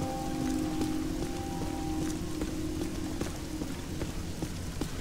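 Rain falling in a Ghostbusters video game, a steady patter of drops over a low hum, with scattered sharp raindrop ticks, continuous and moderately loud without voices.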